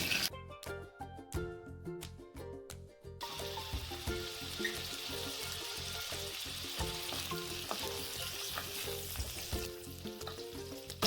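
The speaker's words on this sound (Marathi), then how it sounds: "आता यामध्ये आपण बटाटे थोडेसे शालो फ्राय करून घेणार आहोत" Potatoes shallow frying in homemade ghee over fairly high heat for a spiced dum aloo, a steady loud sizzle with stirring scrapes, crackling throughout and no talk.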